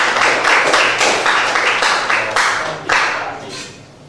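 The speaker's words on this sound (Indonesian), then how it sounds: "Beri tepuk tangan untuk kelompok ini." A classroom group of students claps for a student group, a dense burst of hand claps that swells in waves and fades over about four seconds, close and fairly loud.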